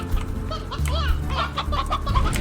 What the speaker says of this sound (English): there's a lot of elder hens in here